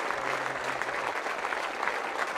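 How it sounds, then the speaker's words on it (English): Rugby league supporters in a stadium applaud steadily for a Bradford v Doncaster match, a dense, sustained wash of clapping from a large crowd, continuous and fairly loud throughout. "the supporters, they've been clapping now for over a minute"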